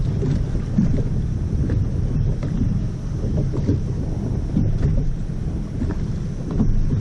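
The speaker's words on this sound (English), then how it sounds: "I hope you guys can hear me over the wind." Steady wind buffets the microphone outdoors on a lake, a continuous low rumble with gusts that swell and fade throughout.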